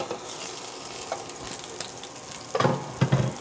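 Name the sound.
bison burger patty sizzling in pan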